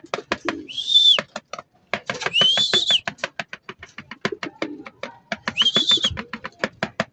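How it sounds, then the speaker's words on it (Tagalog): Racing pigeons coming back to their loft, with repeated short bird calls and rising whistled notes, plus dense clicking and flapping, fairly close and continuous. "nandito na yung mga kalapate nagdatingan"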